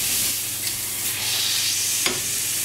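Wild boar loin sears in a frying pan with a steady, soft sizzle and light crackle, a brief sharper pop near the end, no voices.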